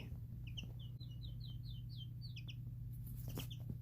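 Baby chicks in a brooder chirp in quick bright peeps, a run of repeated tweets at moderate distance over a steady low hum, with a few more calls near the end.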